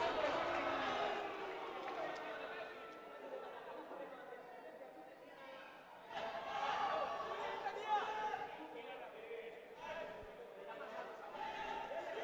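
A packed stadium crowd at a football match between Youniors F.C. and Saiyans FC keeps up a continuous, steady murmur of chatter, rising slightly at times.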